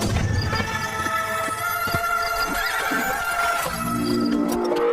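A horse hitched to a horse-drawn tanga cart neighs loudly and close by, a long wavering whinny that fills the short clip over a dense background.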